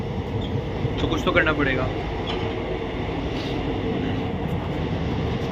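Interior of a crowded Indian passenger train, with a steady rumble of the moving carriage under continuous nearby talk and background chatter.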